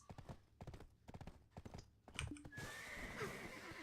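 Horse in the online game Black Desert Online, rhythmic clip-clop hooves followed by a loud drawn-out whinny, near and clear.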